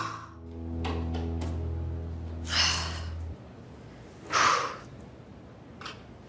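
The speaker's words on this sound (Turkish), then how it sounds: "Böyle nefesler al ver." A person takes slow deep breaths in and out, two distinct breathy exhales standing out close to the microphone, with a low hum fading early and quiet surroundings otherwise.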